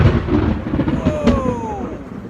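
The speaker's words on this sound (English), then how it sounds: "because there's a cool thunderstorm moving in" An approaching thunderstorm over a garden gives a loud, sustained low rumble of thunder lasting a couple of seconds, with no clear speech.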